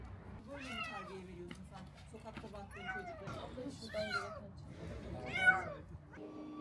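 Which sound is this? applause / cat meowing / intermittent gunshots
cat meowing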